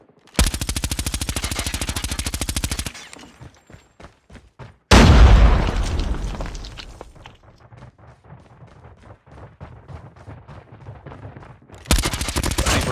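Gunfire in the video game Call of Duty, a long loud machine-gun burst, then a few spaced single shots, a heavy booming blast with a trailing rumble, and a renewed rapid burst at the end.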